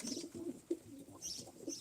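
Pigeons cooing in a pigeon-trading setting, soft low repeated coos with faint higher chirps around them, no talking over the calls.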